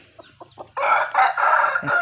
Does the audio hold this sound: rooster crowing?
yes